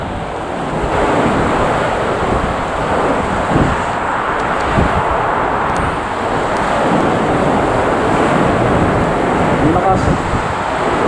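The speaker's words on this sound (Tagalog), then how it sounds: "Kita nyo po, yung bugso ng hangin, may dalang ulan, kaya mabigat talaga." Typhoon Florita's strong wind gusts carrying rain in Baggao, Cagayan, a loud continuous roar of wind and rain buffeting the microphone without letup, with a voice talking over it.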